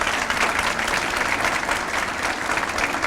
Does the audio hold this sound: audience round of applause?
yes